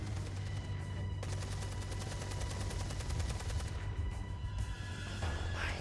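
Rapid bursts of automatic gunfire from the Beyond: Two Souls video game rattle loudly and continuously, with dense repeated shots and booming low end, no talk over them.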